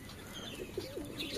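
Male domestic pigeons calling near a hen in a loft, with a few short, soft rolling coos overlapping quietly against a low background hiss.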